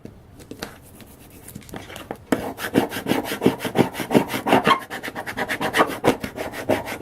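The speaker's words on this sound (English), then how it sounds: "Rub it down really good." Quick rhythmic strokes rub firmly across a ceramic tile coaster, a close, scratchy back-and-forth after a quieter start with a few light taps.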